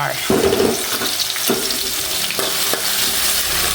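Chili and garlic sizzle and fry in old oil in a wok, a steady loud crackling hiss with occasional stirring scrapes and clinks, close up, with no talk.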